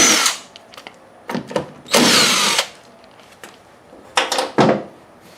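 A power tool whirs in short bursts while removing two 10mm bolts on a 2001 Lexus IS300, several quick spins and one longer run, close up with quiet pauses between.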